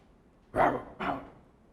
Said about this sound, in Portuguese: ele ouviu o latido de um cachorro